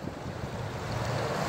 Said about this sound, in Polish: woda sobie swobodnie przepływa